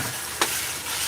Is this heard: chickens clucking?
no